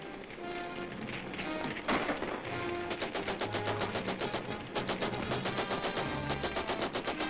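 Rapid bursts of gunfire crackle in quick repeated volleys over a dense, noisy background, loud and sustained, with a heavy boom near the two-second mark.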